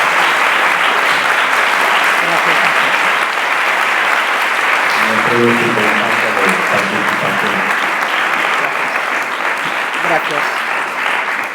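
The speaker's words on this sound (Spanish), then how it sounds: "le damos un aplauso" Sustained applause from a conference audience at the close of an inaugural lecture, steady clapping throughout, with a brief spoken thanks over it.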